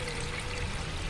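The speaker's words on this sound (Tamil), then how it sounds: "2 டம்ளர் அளவுக்கு தண்ணி ஊற்றிக்கலாம்." Water poured from a tumbler into a kadai for cooking spaghetti, a steady close splashing stream running throughout the short moment with no voices.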